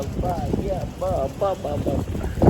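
Steady wind buffets the microphone in a rough, blustery roar during a cycling ride, with a voice-like sound rising over it partway through.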